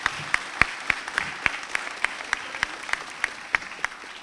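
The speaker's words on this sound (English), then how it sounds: "so please give them a round of applause." An audience claps in appreciation of Senate and Assembly staff who work on animal advocacy bills, the claps sharp and fairly sparse, falling in a steady, almost metronomic rhythm over a low room murmur.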